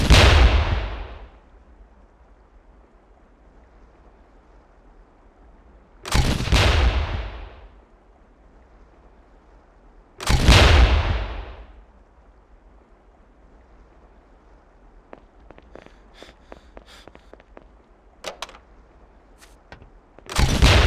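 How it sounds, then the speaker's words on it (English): Grenade launcher rounds explode on impact in the tactical shooter Ghost Recon, three loud booming blasts a few seconds apart with rumbling tails, then scattered sharp cracks and another blast at the end. "Grenades fired from grenade launchers explode on impact"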